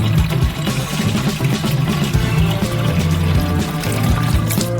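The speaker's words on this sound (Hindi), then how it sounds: "इसलिए हम गुब्बारे को पानी से भरते हैं।" Water pours and gushes into a balloon in a loud, continuous rush with a low humming, pump-like undertone, close up and without speech.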